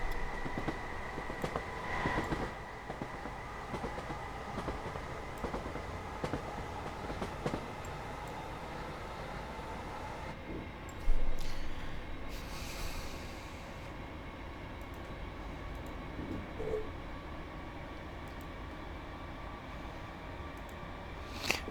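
A Class 317 electric train runs in a train simulator game, giving a steady, moderate rumble of motor and rolling wheels. There are occasional soft clunks and a brief thump partway through, and no one speaks.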